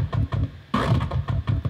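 Dry FM8 growl synth patch in Ableton Live with no Wow vocal effect: a steady pulsing low bass rhythm, broken by one brighter, louder growl burst near the middle, heard alone.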